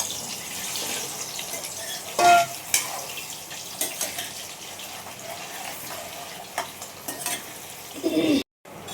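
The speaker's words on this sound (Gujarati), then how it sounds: "આપણા બટેટા એકદમ તળાઈ ગયા છે" Potatoes fry in hot oil for a street-food dish, a steady close sizzle broken by several stirring scrapes and clatters, with a brief silence near the end.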